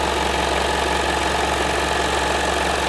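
A serger sewing machine runs at full speed, making a steady, dense mechanical drone with a fine rapid rattle. It stays loud and close throughout, with no voices.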